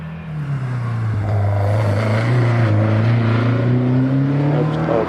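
A Caterham 7 race car sits on the start line at the Prescott hill climb, its engine droning at a steady, slightly rising pitch that swells louder and nearer, with a hard, constant roar and no voices.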